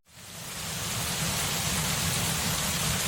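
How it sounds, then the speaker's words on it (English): Heavy rain swells in within the first moment, then pours as a dense, even hiss that holds steady to the end. "Rain lashed Karate Village."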